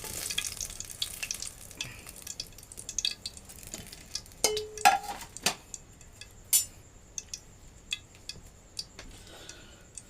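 Tomato vada frying in hot oil, a steady soft sizzle with scattered clicks and clinks of a utensil against the pan, fairly quiet and close, with no one talking.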